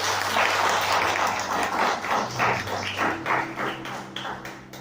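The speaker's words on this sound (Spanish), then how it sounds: "¿Cuándo le dan un fuerte aplauso al Señor?" A church congregation gives a strong round of applause in a worship service, loud and dense at first, then thinning into scattered rhythmic claps as it fades.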